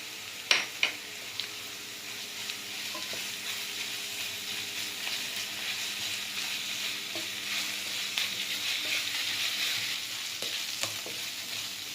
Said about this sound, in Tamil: வெங்காயம் ஓரளவு வதங்கிடுச்சு. இந்த ஸ்டேஜில் இஞ்சி பூண்டு ஆட் பண்ணிக்கலாம்.